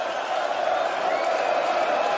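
A darts arena crowd at the Belgian Darts Open rises and cheers for Luke Littler, a steady, dense roar of voices and whoops that holds at an even level throughout without any break.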